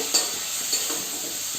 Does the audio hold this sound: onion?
yes